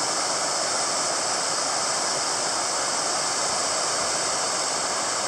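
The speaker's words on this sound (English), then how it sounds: "Out of the running stream." A mountain stream rushes steadily over rocks, a loud, continuous broadband wash with no breaks, heard up close and alone along a hiking trail.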